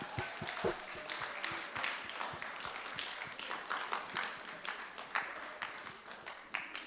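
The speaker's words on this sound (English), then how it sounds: "let's give her a hand clap for that" An audience at a youth mentorship programme event claps for a speaker, a steady patter of many hands with sharp individual claps close by, continuing for several seconds at moderate loudness.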